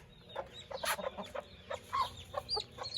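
Hen and chicks on a farm in Mianwali, with an aseel rooster nearby, clucking and cheeping in short, irregular bursts close by, no talking over them.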